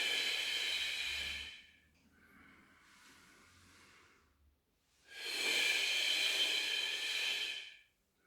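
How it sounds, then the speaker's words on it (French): Two long, loud exhales bracket a softer inhale during a guided breathing exercise, each breath a broad airy hiss, heard close with no talking. "1, 2, 3, je souffle. 1, 2, 3, j'inspire."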